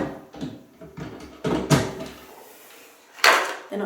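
Small, shallow drawers in a bathroom vanity slide open and shut, making a series of wooden knocks and sliding scrapes, with a louder thump as one closes near the end.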